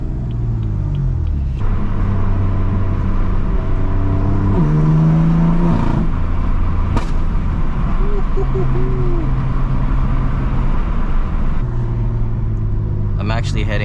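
A BMW F80 M3 fitted with VRSF downpipes revs repeatedly, its exhaust note rising and falling in several loud swells over a steady rumbling idle, heard from nearby with occasional talk mixed in.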